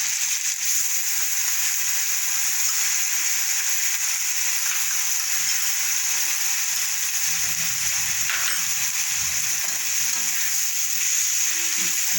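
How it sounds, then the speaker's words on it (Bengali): Onion frying in a pan with ground ginger, garlic and chili paste, a loud steady sizzle that hisses without pause throughout, with faint stirring scrapes underneath; no voices. "ভালো করে পেস্টটা দিয়ে আমরা এটাকে কষতে থাকি।"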